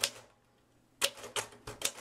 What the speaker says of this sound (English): Nothing will point up your weaknesses as a typist than using a manual typewriter